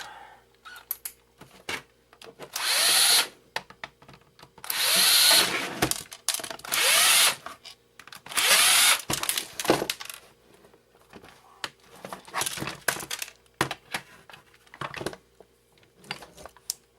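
A power drill backs screws out of an old ACN telephone's plastic casing in several loud, short whirring bursts, separated by clicks and rattling of small parts.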